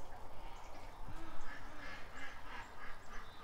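Ducks quack repeatedly in an outdoor pen at feeding time, several birds calling over a steady background hiss, moderately close and fairly faint.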